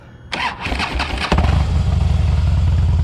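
A 2009 Harley-Davidson Softail Custom, 1589 cc, with Screaming Eagle exhaust and Arlen Ness breather, cranks and fires up, settling into a loud, loping idle with a deep, uneven rumble close by.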